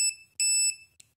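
Anti-theft alarm of a D1 Wi-Fi camera doorbell: short, piercing electronic beeps repeat in a quick pattern, close and loud.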